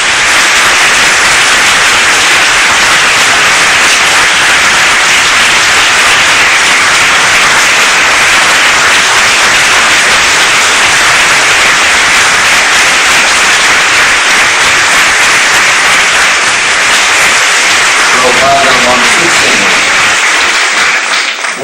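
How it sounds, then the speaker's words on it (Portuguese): Church congregation applauding steadily for Jesus during a communion service, a dense, loud wash of clapping that carries on without a break and thins slightly at the end. "vamos dar mais uma linda salva de palmas para o Senhor Jesus"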